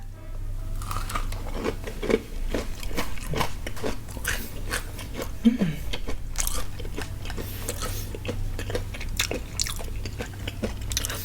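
Crunchy bites and steady chewing of extra-spicy fried chicken coated in Cheetos with a cheese dip, heard up close as a dense run of crackly crunches that goes on throughout, with no speech.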